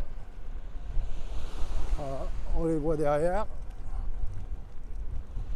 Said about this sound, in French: il y a encore beaucoup de vent